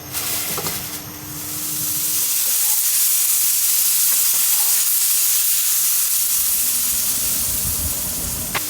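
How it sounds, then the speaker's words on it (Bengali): Sliced bitter gourd fries in hot oil in a pan, giving a loud, continuous sizzle and hiss close up with occasional stirring sounds. "আমি চেষ্টা করি করলা ভাজি করতেছি"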